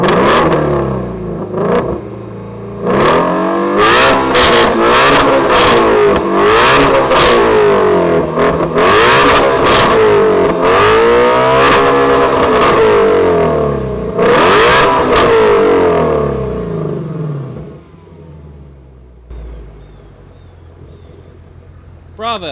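Exhaust of a Shelby GT350 S550 Mustang or a 1JZ Supra: loud, close, repeated sharp revs that rise and fall in quick bursts, then settle into a quiet idle.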